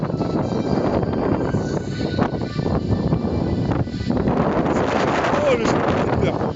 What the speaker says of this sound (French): Il y a un putain de vent de ouf.